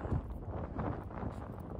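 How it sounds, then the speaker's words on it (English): Strong wind buffets the microphone up on a rooftop beside HVAC rooftop units, a steady low rumbling roar with gusty swells throughout. "Very windy outside."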